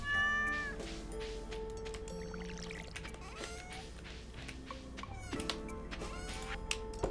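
Cat in a farming video game meowing repeatedly, several sharp close meows and a drawn-out yowl separated by quieter stretches of background game sound.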